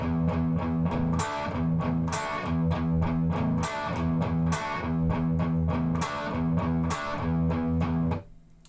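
A distorted electric guitar chugs through a rhythm riff, with repeated palm-muted low notes and punchy chord stabs, loud and close and played alone before stopping abruptly.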